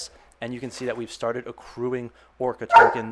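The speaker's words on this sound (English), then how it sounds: "Excuse my dog, he wants to play." A pet dog that wants to play lets out a few short, close yips and barks near the end. Someone talks steadily beforehand and over the sounds.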